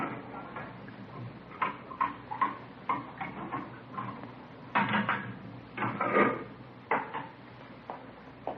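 Dishes, pots and cutlery clattering in a home kitchen as a cook fixes dinner, with irregular clinks, knocks and scrapes at close range and moderate volume, including a few louder bursts of clatter.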